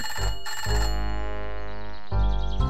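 A telephone rings in bursts at close range, a bright bell-like trill repeating with short gaps between rings, loud and with no one speaking.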